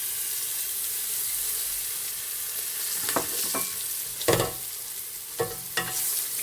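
Green chilies dropped into hot oil for a wagar tempering, while preparing kadhi and rice: a steady crackling sizzle broken by a few louder bursts and pops, with no one speaking.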